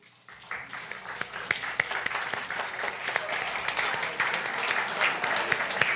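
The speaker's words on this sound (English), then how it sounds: "let us give you a nice round of applause" A church congregation gives its volunteers a warm round of applause during Sunday service, steady clapping that swells quickly and holds, with scattered sharper claps and a few voices underneath.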